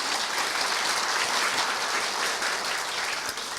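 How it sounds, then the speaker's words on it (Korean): Sustained applause from the audience at a university staff retirement ceremony, a dense, steady round of clapping that fills the room evenly from start to finish with no talking. "다시 한번 큰 박수 부탁드립니다."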